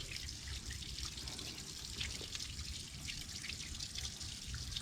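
Fresh stream water trickles and drips softly and steadily while a water bag is filled at a campsite near Dolukanda, a quiet close-up sound with no talking.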